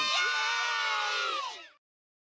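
A loud crowd roar of cheering and shouting at a WWE wrestling event, sustained and bright before dropping off abruptly into silence.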